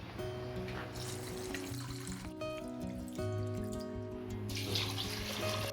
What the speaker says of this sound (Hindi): अब सारे इंग्रेडिएंट्स को अच्छे से धो लेंगे जब तक कि उसका पानी साफ़ ना हो जाए